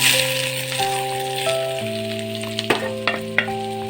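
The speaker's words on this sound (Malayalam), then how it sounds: "ഇനി നമുക്കിതിലേക്ക് ഇഞ്ചിയും വെളുത്തുള്ളിയും ചേർത്ത് കൊടുക്കാം" Ginger and garlic fry in hot oil for mango pickle, giving a steady close sizzle with light stirring rattles and scrapes, while a musical tone plays underneath.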